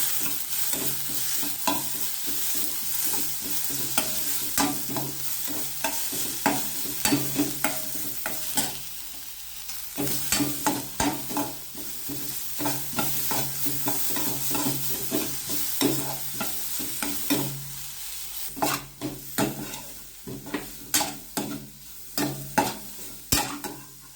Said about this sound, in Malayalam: വെളുത്തുള്ളി ഇഞ്ചി പേസ്റ്റ് ഇട്ട് കൊടുക്കാം.